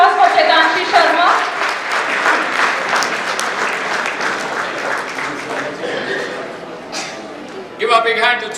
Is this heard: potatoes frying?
no